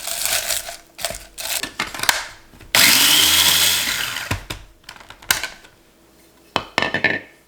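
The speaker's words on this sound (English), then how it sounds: "This is just like a little mini food processor, and I'm just gonna throw these in here." A small mini food processor whirs steadily for a few seconds as it chops dried tomato peels, a loud continuous motor buzz set between clattering knocks of the lid and bowl.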